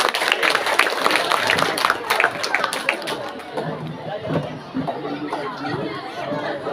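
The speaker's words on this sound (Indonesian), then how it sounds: "Berikan tepukan yang meriah." An audience at a school participants' event claps in a scattered burst that quickly thins into crowd chatter and moving about, moderately loud.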